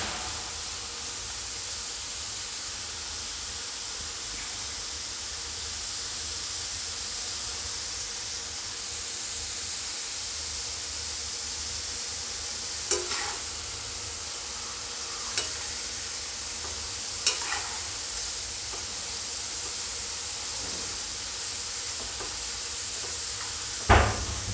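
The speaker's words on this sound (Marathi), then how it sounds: "गॅसची फ्लेम अगदी हाय ठेवायची आहे आणि हाय फ्लेमवरच आपण याला तळून घेऊया." Potato slices for batata chivda deep-frying in hot oil over a high flame, giving a steady, even hiss of bubbling oil with a few sharp clicks, close and continuous without speech.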